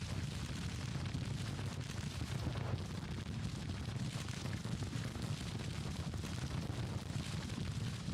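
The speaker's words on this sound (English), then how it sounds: "And our artillery continues to pound the enemy before they can even get within reach of our main lines." Distant artillery fire on a Civil War battlefield in Grand Tactician: The Civil War, a steady low rumbling roar of blended cannon booms, faint and continuous throughout.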